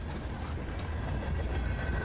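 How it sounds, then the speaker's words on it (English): Steady low rumble of a train rolling along rails inside the horror game DARQ, continuous and close, with faint rhythmic rail noise and no talking. "We are on a fucking train."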